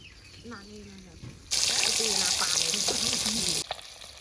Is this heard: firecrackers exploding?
no